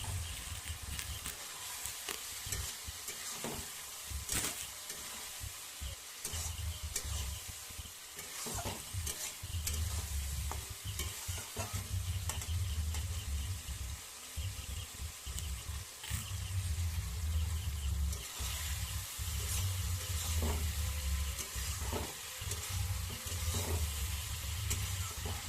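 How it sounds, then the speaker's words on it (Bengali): Fried potatoes and eggplant sauté in spiced oil with a constant loud sizzle while a spatula stirs and scrapes the pan in repeated strokes, close up and steady. "এবার আমি ভেজে রাখা আলু বেগুনগুলো দিয়ে দেব। আলু বেগুনগুলো দিয়ে আমি ভালো করে একটু কষিয়ে নেব।"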